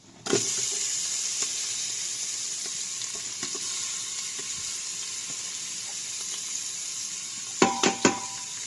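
Onions frying in a pot, a loud steady close sizzle that holds throughout, with a few sharper clanks of a utensil near the end and no talking.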